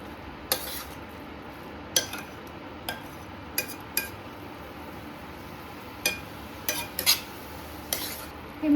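A spoon stirs modak filling in a pan, with scattered metallic clinks and scrapes against the pan at irregular intervals over a faint, quiet sizzle.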